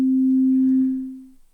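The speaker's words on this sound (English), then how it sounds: "I've just got a wavetable synth, and it's just playing a sine wave." A single pure sine tone from a wavetable synthesizer sounds cleanly, holding steady before fading out smoothly within about a second and a half.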